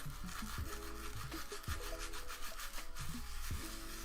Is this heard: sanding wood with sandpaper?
yes